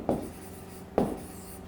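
Two short chalk or marker strokes scratch across a classroom board while a sentence is written during an English grammar lesson, each burst brief and close, with a quiet pause between them.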